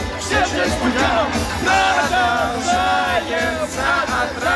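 A concert crowd chants and sings together along to a song, a loud continuous mass of voices with whoops and yells rising and falling in waves.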